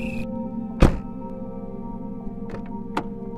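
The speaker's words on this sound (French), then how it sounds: "Puis, le bruit d'une portière." A car door closes with one sharp, solid thunk, followed later by two fainter knocks against a low background hum.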